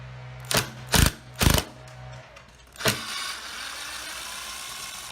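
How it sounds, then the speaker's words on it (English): Power drill backing an old screw out of a sticking door, three short loud whirring bursts followed by a fourth after a pause, then quiet. "we are going to take out an old screw."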